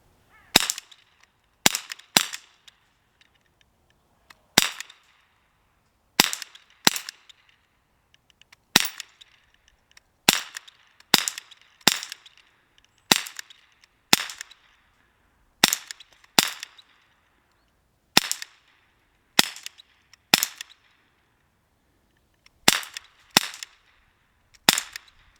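Sig Sauer SP2022 gas-powered pistol firing in rapid repeated bursts, about twenty sharp, loud cracks spread unevenly over the stretch, some in quick pairs, with no voices between shots.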